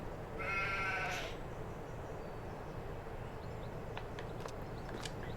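A sheep bleats once inside a barn with red lights in Farming Simulator 22, a short wavering cry early on, then a low steady rumble continues with a few faint clicks.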